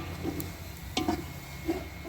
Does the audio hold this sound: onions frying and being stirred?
yes